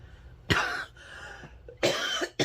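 Three or four harsh, close coughs from a woman with a persistent cough, coming in bursts separated by brief quiet pauses, with a softer throat-clearing sound between them.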